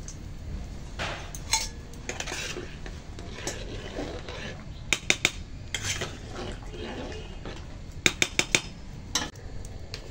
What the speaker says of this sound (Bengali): এখন আমি এই খিচুড়ির হাঁড়িতে দিয়ে দিচ্ছি